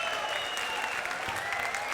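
Steady applause from an audience at a live guitar clinic for Jake Bowen at Audiomusica, a dense wash of many hands clapping continuously at moderate loudness.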